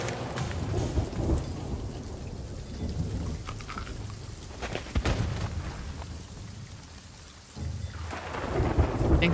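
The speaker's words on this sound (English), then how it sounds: "I got struck by lightning and I'm on fire." Thunder rumbles and cracks through a heavy rainstorm in the pirate game Sea of Thieves, with steady loud rain on surfaces and sharp lightning strikes, building again toward the end.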